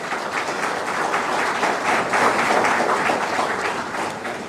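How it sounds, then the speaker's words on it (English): An audience at an awards ceremony on a college campus applauds in a steady, dense round of clapping that swells slightly midway and then eases off. "Could we have a round of applause for that welcome?"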